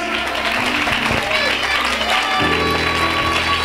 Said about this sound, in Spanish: Dale la gloria con tus palmas.